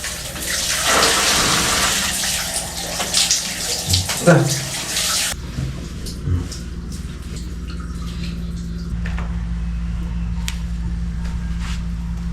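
Tap water running into a tub while a child is bathed at home, a steady close gush that shifts in tone as the flow changes, with occasional voices and splashing.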